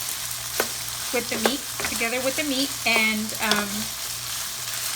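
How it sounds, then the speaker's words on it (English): Pork meat and chopped onion fry in a pan with a soft, steady sizzle that runs beneath a person talking. "Then I leave it for a few minutes to fry a little"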